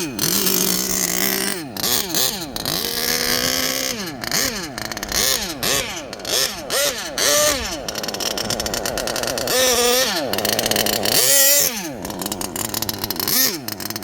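An HPI Savage Octane RC truck's small gas engine screams and buzzes loudly close by, revving up and down repeatedly through its three-speed transmission shifts, with high, rising and falling pitch sweeps.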